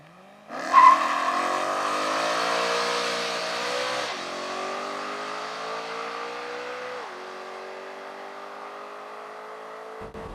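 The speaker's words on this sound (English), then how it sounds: "When you step on the gas like this, it first revs up, then releases the clutch hard, and you can take off as if you had a manual." A BMW M3 convertible with a naturally aspirated 4-liter V8 revs loudly and then launches hard. The engine note climbs steadily over several seconds, with two brief dips as it shifts gears, and no voices are heard.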